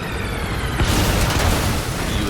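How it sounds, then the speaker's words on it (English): Bombardment explosion in the video game Metal Gear Solid V, a loud broadband boom that erupts and then rumbles on as a dense roar filling the whole short moment. "We haven't seen a bombardment in a while."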